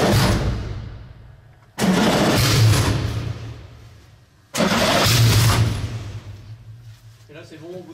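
A car engine cranks and churns in repeated attempts, three long grinding starter runs, catching on the third try, before a voice briefly speaks in French at the end.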